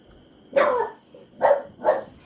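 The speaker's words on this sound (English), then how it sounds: "Oh, dog alert." A dog barks three times nearby, one longer bark followed by two shorter ones in quick succession, over quiet background.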